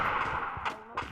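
Two quick bursts of gunfire from the Free Fire mobile game crack out close and sharp in a very short moment, with no talk over them.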